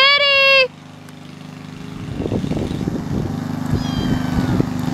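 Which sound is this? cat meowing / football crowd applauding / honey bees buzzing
cat meowing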